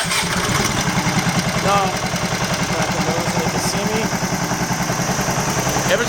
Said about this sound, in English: As you're cranking the engine, open the choke.